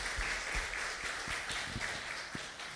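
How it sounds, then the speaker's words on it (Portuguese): A church congregation applauding children at a Baptist service, a dense, steady wash of clapping from many hands filling the room without a break. "Uma salva de palmas para essas crianças maravilhosas."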